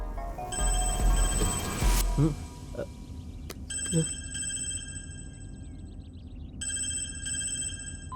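A telephone rings with a steady electronic tone that repeats in long pulses, starting after some noisy movement and a voice, and continuing to the end.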